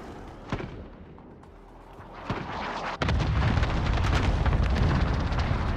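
A video game airstrike sets off deep booming explosions: a few scattered thuds, then a sudden heavy blast that rolls into a sustained rumbling barrage.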